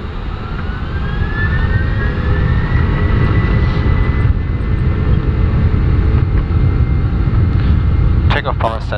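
Airbus engines roar at takeoff power, a loud steady broadband rumble and whine heard from the cockpit, with voices briefly speaking near the end.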